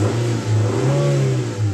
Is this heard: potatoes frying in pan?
no